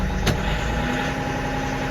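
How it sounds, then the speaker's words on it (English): Kioti tractor diesel engine idling and rising in speed, a steady close drone with a brief click near the start, alone without talk. "See how it idles up."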